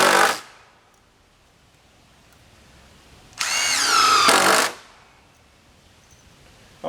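A power drill drives screws into log boards on a log box, in two bursts: a short whir at the start, then a longer rising whine of about a second, with quiet between.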